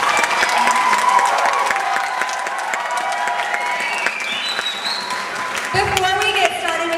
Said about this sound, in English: just give them another round of applause because I know they want to hear it